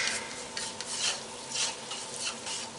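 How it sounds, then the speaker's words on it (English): A rubber scraper scrapes and stirs soft taco filling around a pan, giving a continuous wet scraping with light sizzle and a few louder strokes, close and without talk. "I can actually switch to the rubber scraper because I do not need much."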